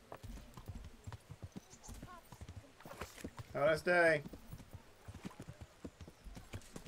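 Horse hooves clip-clop steadily at a walking pace in the Kingdom Come video game, a continuous close rhythm of light knocks running under brief talk from a player.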